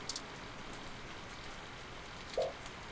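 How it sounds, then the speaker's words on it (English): Steady rain falls in the video game Read Only Memories, a soft, even hiss of drops filling the scene with no voices over it. "It's raining."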